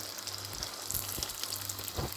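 Quiet, steady sizzling of meat-filled belyash dough frying in hot oil in a frying pan, with a few soft crackles and pops.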